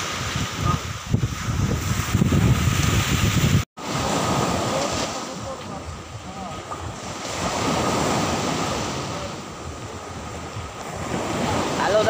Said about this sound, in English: Hello, the beach.